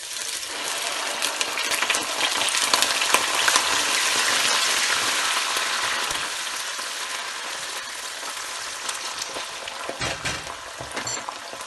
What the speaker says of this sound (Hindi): अब प्याज डालेंगे।